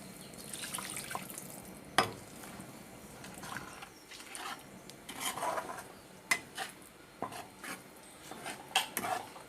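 Rinse water swished in a masala grinder jar and poured into a pan of cooking kulambu, quiet splashing and clinks of the jar against metal in short bursts, fairly close, no talking.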